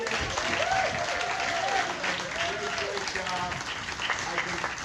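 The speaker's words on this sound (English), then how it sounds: "let's have a round of applause for your great assembly members" Audience clapping at a community meeting with a Senate majority leader, a sustained round of applause from the room with voices and cheers mixed in.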